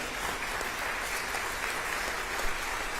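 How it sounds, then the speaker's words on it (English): Steady audience applause at a university award ceremony honoring a NASA astronaut, even dense clapping held at a moderate distance with no talking over it. "Now, let's give him a round of applause."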